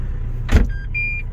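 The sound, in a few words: Renault Espace 4 car beeping with door open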